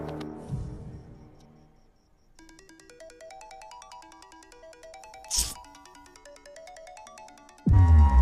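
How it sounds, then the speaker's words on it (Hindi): A phone ringtone from an incoming call in a Hindi-dubbed action movie plays a bright, repeating melodic pattern for several seconds, alone and fairly loud, before a sudden heavy sound cuts in at the end. "ऋषि, तुम्हारे नंबर से मुझे कॉल आ रहा है।"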